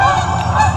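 Geese honk in a close, loud burst of overlapping calls, a short sound effect with no talking.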